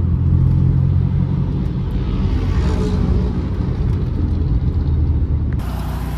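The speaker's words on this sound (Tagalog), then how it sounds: "Traffic na naman." Road traffic rumbles loud and steady from inside a car, with engine drone and a vehicle passing close by midway, no voices.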